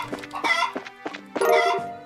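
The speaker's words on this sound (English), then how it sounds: "Chickens." Chickens in the Trails in the Sky video game give several short bursts of clucking, a quick cluster then a longer burst, moderately loud and close, with faint game music underneath.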